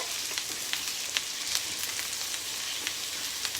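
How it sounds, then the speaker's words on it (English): Rice in a boiling pot is stirred, giving a continuous hissing, bubbling wash with scattered soft scraping clicks from the utensil, moderately close and fairly quiet. "So I'm going to give it a little stir"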